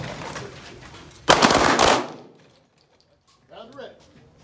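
Pistol shots fired during a timed drill at a shooting match: a loud burst of rapid reports crowds roughly half a second, with softer shots or noise beforehand and quiet afterward, followed by a brief faint sound near the end.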